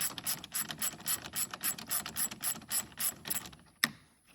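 A hand ratchet with a 10 mm socket clicks rapidly on a bolt in the engine bay of a 6th-gen Camaro, a close run of even, rhythmic pawl clicks that stops near the end with one sharp knock.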